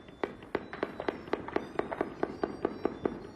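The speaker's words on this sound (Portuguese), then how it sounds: "Era possível ouvir o som de tiros em vários pontos da zona norte do Rio." Repeated sharp cracks of gunfire ring out from several spots across hillside neighborhoods in Rio de Janeiro's north zone, a steady irregular volley of about a dozen reports, moderately distant and echoing.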